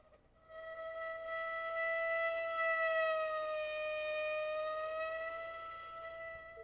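A bowed string instrument played with vibrato sustains one steady, rich tone that swells in after a soft start and holds for several seconds, its pitch gently wavering, alone with no talk.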